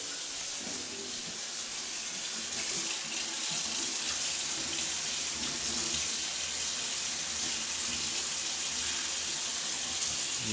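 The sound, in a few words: water running from a tap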